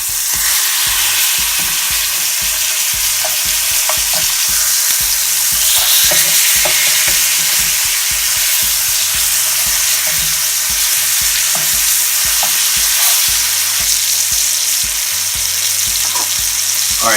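Pork chops frying in a pan after being flipped, a loud, dense, continuous sizzle heard close up for the whole stretch, with faint pops and no talking.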